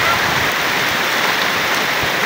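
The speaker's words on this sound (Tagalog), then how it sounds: "Malakas ang ulan ha." Heavy rain pours down steadily in a rural province in Biliran, a dense, even hiss with no breaks and no voices.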